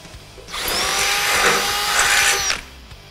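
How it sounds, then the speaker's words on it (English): Power drill enlarging a hole in a truck cross member during a custom fuel tank install, one continuous two-second whine that starts and stops abruptly, close and fairly loud, no talking. "We got a drill to remedy that."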